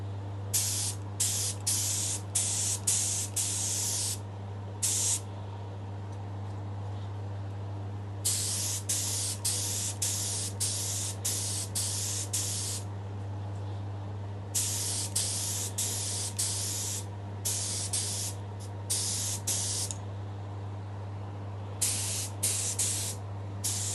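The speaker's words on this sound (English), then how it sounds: "I'm just spraying from this angle or from the back" Repeated bursts of aerosol nitrocellulose lacquer spraying onto the back of a guitar body hiss in short rhythmic pulses, separated by pauses, over a constant low electrical hum.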